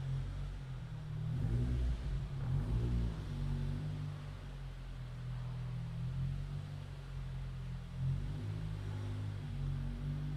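A Morgan Plus 4 with a Mazda gearbox idles and rolls slowly along a showroom drive, giving a steady low engine rumble with slight swells, close and continuous, no voices.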